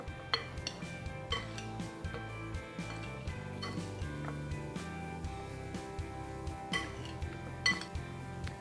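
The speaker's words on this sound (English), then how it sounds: "put the pears in this bowl and toss the pears around to make sure that they get coated completely" Pears with lemon juice, sugar, olive oil, salt and pepper being tossed in a bowl, a steady run of soft clinks and scrapes against the dish over quiet background music.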